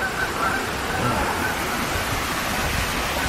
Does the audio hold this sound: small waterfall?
yes